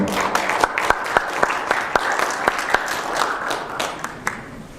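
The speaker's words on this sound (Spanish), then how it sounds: "con un fuerte aplauso recibimos a Miguelito Trejo Luna." Audience at an agricultural technology conference applauds to welcome a speaker, a mix of wash-like clapping with distinct sharp individual claps standing out, fairly close and sustained briefly.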